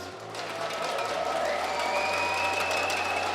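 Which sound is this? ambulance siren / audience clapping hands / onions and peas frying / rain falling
audience clapping hands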